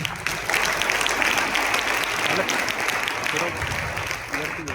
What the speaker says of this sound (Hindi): क्या हम प्रभु के लिए ताली बजाएं?